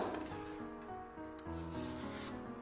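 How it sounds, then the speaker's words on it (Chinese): A knife blade scrapes and shaves the tough rind off a leftover winter melon, making steady rubbing, rasping strokes close up with no talking, while a soft tonal hum of background music runs underneath. "再用刀将冬瓜皮给它削干净"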